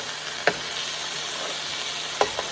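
Garlic butter Cajun cod fillets fry in a pan with a continuous close sizzle and hiss, broken by two sharp pops of spattering fat.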